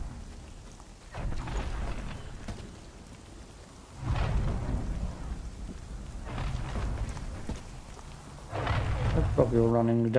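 Steady rain with several deep rolls of thunder swelling and fading in a thunderstorm inside the video game The Cycle: Frontier, continuous and fairly loud throughout.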